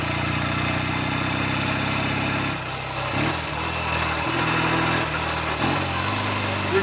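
A Norton Navigator 350 motorcycle engine runs steadily at close range with a buzzy, even drone, revving slightly up and down while the faulty gearbox fails to drive, several brief dips and shifts in pitch marking attempted gear changes.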